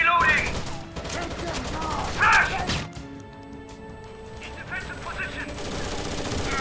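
Gunfire and impact crashes from the Rainbow Six Vegas shooter game during a firefight, with dense bursts in the first few seconds and a quieter stretch after, all under shouted combat voices.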